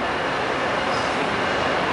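An Amtrak train rolls along railroad tracks in Chicago, close and loud as a steady broadband rumble and roar that fills the whole moment.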